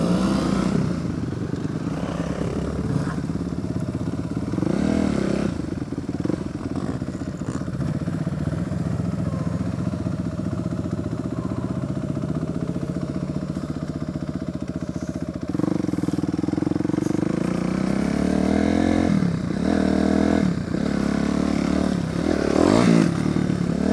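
A Kawasaki KLX250 dirt bike engine drones loud and close while riding off-road, its note rising and falling with throttle over a steady rumble. Wind buffeting and rattling clatter run throughout.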